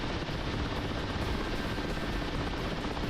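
Steady, dense rotor and engine roar of a helicopter flying in the DCS World flight simulator, close and constant throughout.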